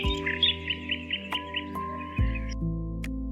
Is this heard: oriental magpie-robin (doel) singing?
yes